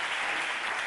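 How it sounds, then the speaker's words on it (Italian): Brief burst of audience applause at a live Italian TV talk show with the magician Silvan, dense steady clapping from a crowd heard fairly close. "Facciamo un bel applauso alla signora."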